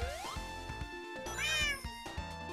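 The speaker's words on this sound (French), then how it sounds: "c'est pour ça qu'il y a eu un miaou" A cat meow alert plays from an FMC connection during a Minecraft live stream: a few short, clear, tonal meows in quick succession over quiet game sounds, with no talk.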